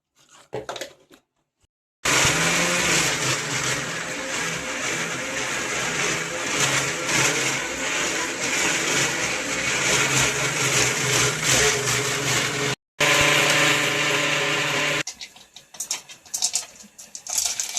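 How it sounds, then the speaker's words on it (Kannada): A mixer grinder whirs loud and steady up close for about ten seconds as it blends poppy seeds and greens, pausing briefly, restarting, then cutting off. "ಇಷ್ಟು ಚಲೋ ಈಗ ಮಿಕ್ಸಿಗೆ ಹಾಕ್ಕೊತೀನಿ"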